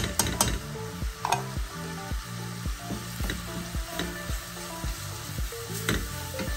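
Chili powder and spices frying in hot oil for a paneer korma, a steady close sizzle broken by repeated rhythmic scrapes of stirring.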